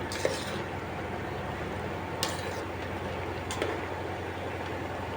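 Chicken biryani stirred in an electric cooker: a constant steady hiss and bubbling from the pot, with a few short clinks of a utensil against the metal pot, close and moderately loud.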